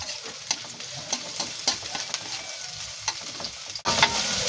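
Onions sautéing in a pan for a Filipino chicken tomato stew, a steady close sizzle with soft stirring scrapes throughout and a brief dip near the end before the frying resumes.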